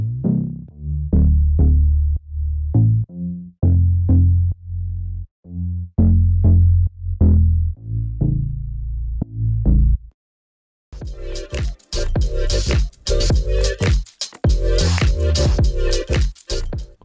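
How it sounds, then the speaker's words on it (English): A reworked synth bass line in a beat-battle track, loud and steady, with pulsing low notes in the first half. After a short gap a brighter, fuller section comes in, carrying a sweeping effect over the dense rhythm. "I changed up the bass line and I added this little sweep thing"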